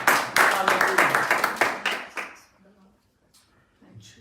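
A church prayer-meeting congregation applauds together to welcome a speaker, a dense burst of handclaps in rhythmic waves that fades out after about two seconds, followed by quiet room tone.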